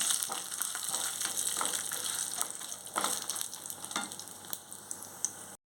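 Dried red chillies fry in hot oil for a Telugu onion chutney, giving a steady close crackling sizzle with faint stirring scrapes, with no voices.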